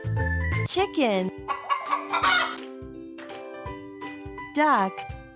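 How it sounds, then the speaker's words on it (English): A chicken clucks in a series of bright, rising squawks between quieter pauses, with a light jingle and cartoonish sound effects mixed in, loud and close. "Chicken."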